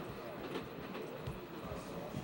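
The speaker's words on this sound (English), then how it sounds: "the world-famous Orient Express, is perhaps the most exciting train of all" Orient Express passenger train runs on rails with a steady rumbling roar and faint rhythmic clatter of wheels, continuous and moderately loud throughout.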